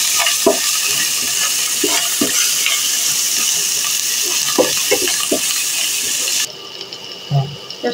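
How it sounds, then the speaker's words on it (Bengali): Ground onion with garlic and ginger fries in a pan, a steady sizzle broken by scattered stirring clinks and scrapes, quieting toward the end. "পেঁয়াজটা কষিয়ে নিলাম"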